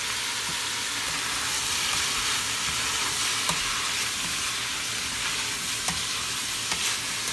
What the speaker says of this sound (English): So now I'm going to stir it a little bit